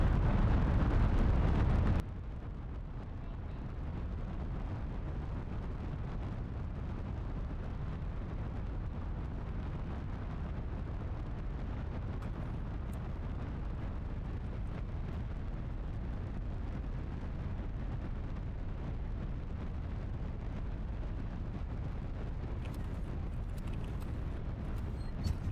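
Big rocket engine launch in Kerbal Space Program 2: a steady, loud broadband roar that holds for over twenty seconds after a brief louder burst at the start, with no talk over it.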